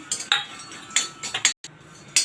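Dry fruits being lightly sautéed without ghee in a pan while making the filling for mango modak, heard as a series of sharp utensil clinks and scrapes against the pan, irregular and close, with one brief silent gap.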